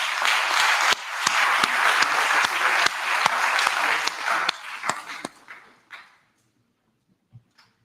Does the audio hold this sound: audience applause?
yes